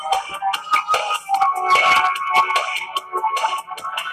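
Bursts of phone notification sounds go off in quick succession, overlapping chimes and tones popping repeatedly and fairly loud, with no one talking over them.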